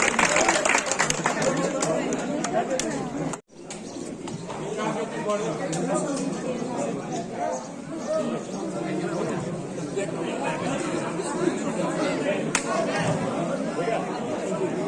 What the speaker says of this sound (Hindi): एक बार फिर से जोरदार तालियां दीजिए